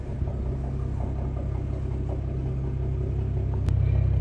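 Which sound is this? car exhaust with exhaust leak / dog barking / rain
car exhaust with exhaust leak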